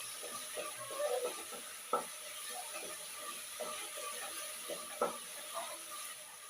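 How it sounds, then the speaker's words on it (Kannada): Ginger garlic paste frying with onions in a pan gives a faint, steady sizzle, broken by a few sharp stirring scrapes and clicks of a spoon against the pan. "ಶುಂಠಿ ಬೆಳ್ಳುಳ್ಳಿ ಪೇಸ್ಟು ಹಸಿ ಸ್ಮೆಲ್ ಹೋಗೋವರೆಗೂ ಚೆನ್ನಾಗಿ ಫ್ರೈ ಮಾಡ್ಕೋಬೇಕು"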